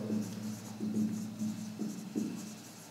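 Chalk or marker strokes on a board during a maths lesson on reciprocals and ratios, a series of short scratchy strokes in an uneven rhythm, close and moderately quiet, with no talk over them.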